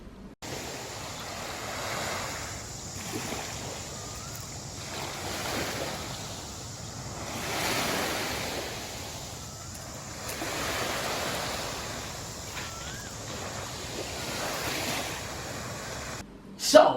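Ocean surf washing onto a shore, a steady roar of breaking waves that swells and ebbs in slow surges, with wind noise across the microphone and no one speaking.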